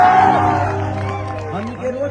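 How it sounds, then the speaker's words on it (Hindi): A stage-show crowd at a Bhojpuri performance raises a loud, continuous roar of cheering and shouting, with voices mixed in throughout. "मेरा भाई इसके लिए हल्ला करके ताली बजाएं"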